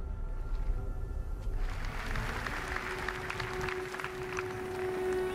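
Crowd applause at the Microsoft E3 2015 conference, a steady wash of clapping that swells after a moment and carries on for several seconds, heard at a moderate distance with a faint tone underneath and no speech over it.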